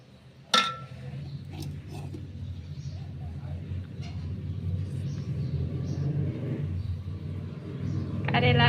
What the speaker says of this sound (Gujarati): બહાર તમને ગાડીનો પણ અવાજ આવતો હશે કારણ કે અમે બેઠા છીએ ગેલેરીમાં